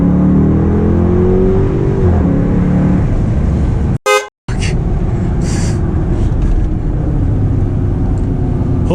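A custom Jeep Grand Cherokee Limited downshifting and accelerating hard, engine drone rising in pitch over the first seconds, then a brief dropout followed by loud wind and road roar with voices under it.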